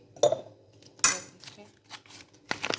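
A spoon clinks against a bowl while mayonnaise goes into a spaghetti salad, sounding as a few sharp, close clinks and scrapes spread over a couple of seconds, with no talk.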